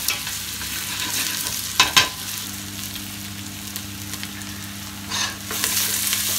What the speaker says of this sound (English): what we want to do is try and brown them off a little bit because they actually have a better flavour when they're brown